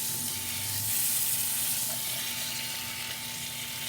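Steak searing in a hot pan, a steady close sizzle and hiss with a faint steady hum underneath, no talk heard.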